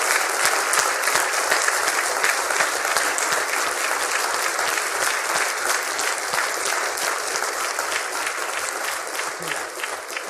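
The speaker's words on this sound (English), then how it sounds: "give one last round of applause to Liz and say thank you for taking us through this today" Sustained, loud applause from a lecture audience at the end of a university professorial talk, many hands clapping in a dense, even patter that fades slightly toward the end.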